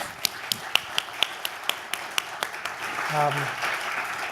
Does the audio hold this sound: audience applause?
yes